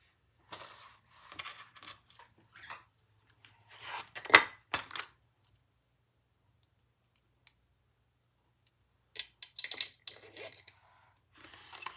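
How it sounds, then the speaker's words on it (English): A zipper pull goes onto a leather sling bag, heard as scattered light metallic clicks and small handling taps that come in short bursts separated by quiet pauses, close and fairly soft. "And then we'll put our zipper pull on."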